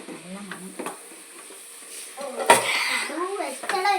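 Onions sautéing in a pan for ulli theeyal, a Kerala shallot curry, give a soft sizzle with stirring scrapes that grows louder near the end, heard beneath a person talking.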